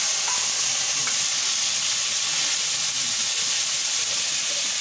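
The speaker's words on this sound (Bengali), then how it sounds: "এবার আমি কাঁচা লঙ্কার টুকরোগুলো দিয়ে দিলাম। এবার আমি এই ছোলাটাও দিয়ে দিলাম।" Green chili pieces and chickpeas fry in a pan, giving a constant, even sizzle and hiss that carries on unbroken with no voices.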